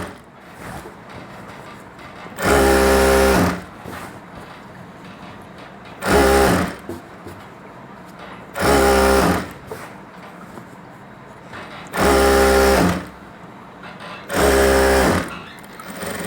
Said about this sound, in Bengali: এবার আমাদের সেলাই শুরু হয়ে গেল